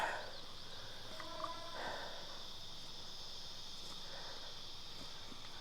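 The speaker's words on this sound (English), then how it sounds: "And we can hear all the cicadas." A steady high-pitched drone of cicadas hums continuously in the background of a garden in early autumn, faint and constant, with a few soft distant noises passing underneath.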